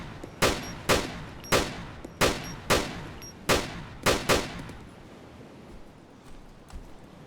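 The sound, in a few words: gunshots from the video game ARMA 2 DayZ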